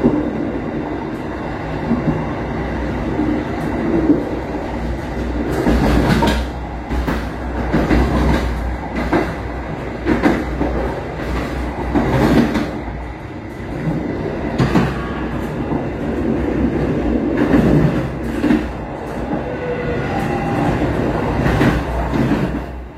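Loud, steady cabin rumble and rattling inside a moving train riding past Cikampek station, with continuous shaking clatter and periodic louder knocks from the wheels over the track.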